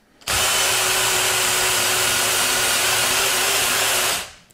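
A cordless drill locked by its chuck onto the knee crank of a milling machine runs as one steady, loud whine and hum, starting abruptly and winding down at the end, with no talk over it.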